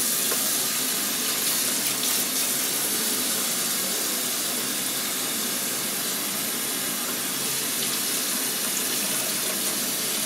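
Running water pours steadily from a tap as photographic dry plates are rinsed, a continuous loud hiss and splash that holds unchanged throughout with no voices.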